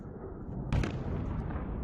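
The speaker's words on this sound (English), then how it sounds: "It's a big explosion." A big explosion lights up the night sky and lands as one sudden, heavy boom. It rises out of a low rumbling background and then settles into a sustained roar.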